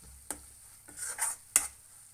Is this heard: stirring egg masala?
yes